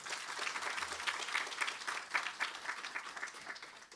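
An audience gives a steady round of applause at an L&T Week event, dense clapping sustained evenly throughout without voices rising above it.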